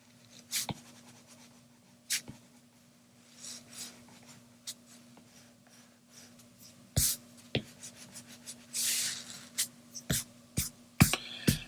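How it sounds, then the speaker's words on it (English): A pencil eraser rubs out guidelines on paper in quiet, scratchy bursts. Soft rustles and taps of the hand and page come through at close range with no talking. "I'm going to take my eraser, erase these guidelines."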